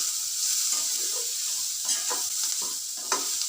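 Onion frying in oil for palak dal, a steady close sizzle with spatula scrapes and stirring knocks across the pan.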